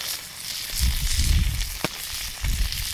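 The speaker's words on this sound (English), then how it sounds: "What we have here is grass-fed organic bison." Grass-fed organic bison sizzles as it sears in a pan over an outdoor fire at a winter camp, a soft steady hiss with low crackling swells and a brief sharp pop.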